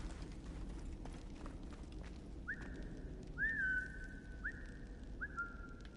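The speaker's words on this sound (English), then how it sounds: "I just found out that by pressing down on the pad, that I whistle" In-game character whistling in Assassin's Creed Origins: four short rising-then-level whistle notes in a row, clear but moderately soft over quiet ambient game sound.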